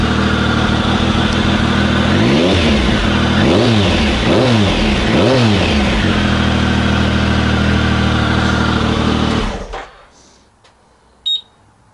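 A Triumph Speed Triple motorcycle engine that is lacking some power revs close and loud, with several rising and falling throttle blips over a rough idle before it cuts off abruptly into quiet.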